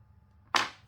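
Scissors snip once through lace thread, a single sharp close cut after a quiet moment.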